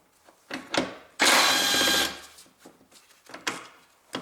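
A power tool spins a 10mm socket to remove bolts on the windshield wiper motor of a 2002–2009 Toyota Prius with a 1.5 engine, a loud burst of roughly one second amid faint clicks and handling noises.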